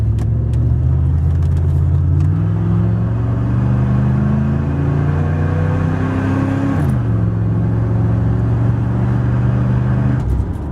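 A car drives along a road and accelerates, its engine climbing through gears in a steady rising drone, with a shift dip partway through before the revs build again, heard from inside and fairly loud.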